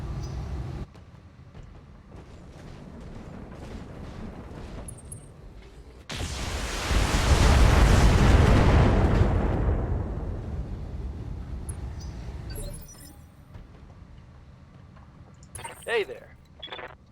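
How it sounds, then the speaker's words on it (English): Artillery strikes from a Hollander mech in the BattleTech video game, a loud sustained roaring blast that swells and fades over several seconds, with players talking before and after. "Oh, that's a Hollander. Fucking artillery."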